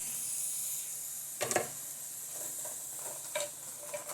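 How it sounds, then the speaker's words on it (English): Chicken fajitas sizzle steadily in a frying pan over medium-high heat, a constant close hiss broken by a few scraping stirs. "I have everything in the frying pan, and I'm gonna cook it over this medium-high heat for about 12 minutes."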